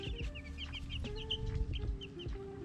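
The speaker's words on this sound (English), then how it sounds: "Look at the chickens! Look! Look! You see the chickens?" Chickens cluck and murmur close by in short, irregular bursts, several birds overlapping, with a low rumble underneath and no voices.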